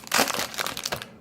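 Crinkly plastic wrapping crackles and tears close up as a 2017 Panini Majestic football card box is opened, a brief burst of crumpling rustle.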